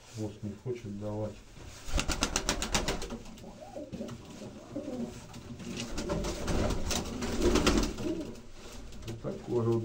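Red pigeons coo steadily in a loft, close and overlapping, with soft rustling and wing flutters, while someone talks intermittently over them.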